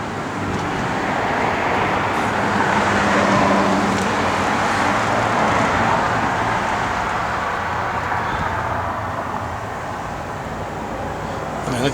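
A 1967 Chevrolet Chevelle with a Tremec five-speed idles steadily and close by, a continuous broadband engine rumble holding even for about twelve seconds without any revving.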